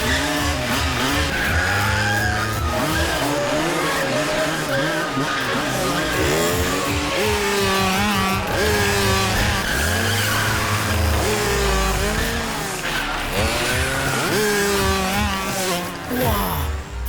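Tires skid and squeal as a car performs stunts in a Hindi-dubbed South Indian film scene, a loud, sustained wavering screech running throughout, mixed with a dense soundtrack.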